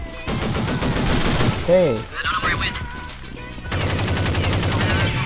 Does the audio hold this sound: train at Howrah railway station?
no